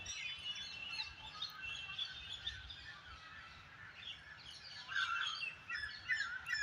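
Busy parrot calls and squawks overhead in a park, steady and continuous, some louder calls rising near the end over a low background rumble.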